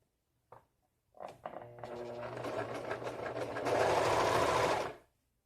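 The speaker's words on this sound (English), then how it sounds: "I will go on the overlock and I will show you how I'm doing it." An overlock serger stitches the shoulder seam of a homemade copy of an old house dress, running in a steady close whir after a couple of brief starts. It grows louder and faster toward the end, then cuts off sharply.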